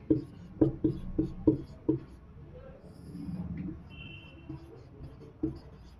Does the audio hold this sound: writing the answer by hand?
yes